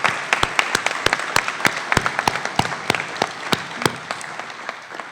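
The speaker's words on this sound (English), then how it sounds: "I'd ask everybody to give him a round of applause because he deserves it." An audience claps for a fire chief nominee, a smaller group whose individual sharp claps stand out distinctly in an uneven, moderately loud rhythm that tapers off.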